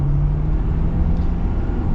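Heavy-duty modified Ford F-450 FTX truck pulling under acceleration, a dense low engine drone with a steady tonal hum, heard close and continuous with no voices.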